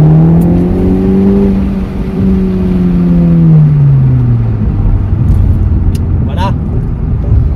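A 2021 Renault Megane 4 RS Trophy petrol sports car builds its engine note in a loud, close rising and falling drone, with gear changes shifting the pitch and a low rumble throughout.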